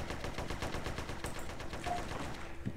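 Rapid gunfire in a police-themed multiplayer Grand Theft Auto: San Andreas game (SA-MP), a dense, steady burst of repeated shots at moderate volume with no talk.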